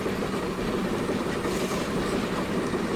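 A steam locomotive in the game Centuries of Steam labours uphill with a heavy train, a dense continuous rumbling chuff and rolling rail noise that stays loud and even throughout.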